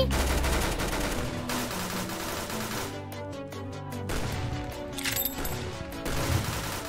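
Gun in Roblox Arsenal fires in a continuous stream of shots under dense game sound and music, steady and loud throughout.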